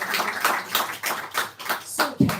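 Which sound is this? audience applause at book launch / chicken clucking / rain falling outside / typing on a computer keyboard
audience applause at book launch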